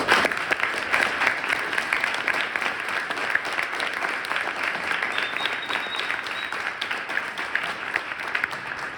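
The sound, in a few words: applause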